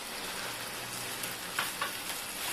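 Minced meat sizzling with spices in a pan for kheema methi, a steady close frying hiss with a couple of faint stirring scrapes.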